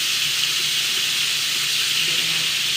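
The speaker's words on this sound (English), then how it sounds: "We're really searing off each side, and then they'll finish in the oven." Very thick lamb chops searing in a hot pan give a loud, steady, unbroken sizzle and hiss close to the microphone.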